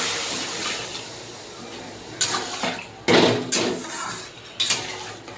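Water is poured into a pan of fried spice paste while cooking a catla fish and turnip curry, giving a sizzling hiss followed by several splashing pours and clinks of utensils, close by.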